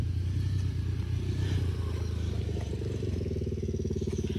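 A four-wheeler ATV engine runs steadily nearby as someone rides it, a low buzzing drone with a chattering pulse that shifts pitch slightly toward the end, no talk over it.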